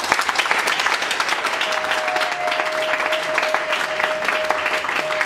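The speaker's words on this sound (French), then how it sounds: "Encore une fois de plus, on peut l'applaudir." A crowd's applause at an official association launch event, sustained clapping throughout, fairly loud and even, with a faint held tone running through the middle and end.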